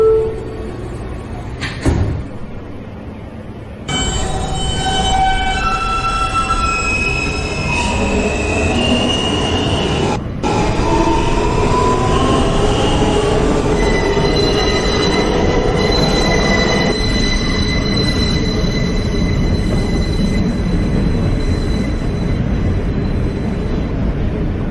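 An L train on the New York subway runs loudly, its wheels squealing in long, high, shifting tones over a steady roar. There are brief dropouts early on and again around the tenth second.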